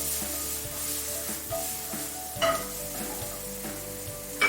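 Mushrooms fry in oil in a home kitchen pan while shrimp scampi is being made, giving a steady, close sizzle with soft stirring clatter and a few louder bumps. No one speaks.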